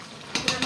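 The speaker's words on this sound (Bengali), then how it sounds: "একদম ভাজা ভাজা মাংস হইতেছে" Meat cooked with garam masala fries in a pan, a soft sizzle broken by three quick scraping stir strokes close by.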